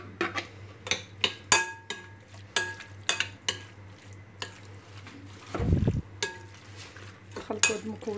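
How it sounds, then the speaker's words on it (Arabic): A spoon stirs and mixes filling ingredients in a bowl, with a string of irregular clinks and scrapes and a brief louder rustle in the middle, close and fairly quiet over a low steady hum. "نخلطوا هاد المكونات مع بعضياتهم كلهم حتى كينسجموا لينا"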